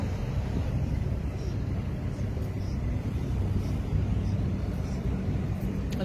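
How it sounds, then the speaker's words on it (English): A steady, low engine rumble of a car towing an airplane drones on without a break, constant and moderately loud with no distinct events. "This car towing a plane."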